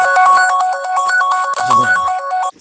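A mobile phone ringtone rings loudly and alone, a steady electronic melody repeating for a couple of seconds before cutting off abruptly.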